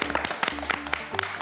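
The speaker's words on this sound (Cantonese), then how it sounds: "俾掌聲先啦！" Studio audience applauding at a Hong Kong pet model contest show, a steady burst of clapping with a few faint voices mixed in, moderately loud and close.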